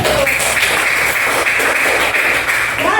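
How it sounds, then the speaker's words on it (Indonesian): Loud, close clapping from a group of participants in a classroom, a continuous patter of hands that holds steady for a few seconds. "Tepuk tangan."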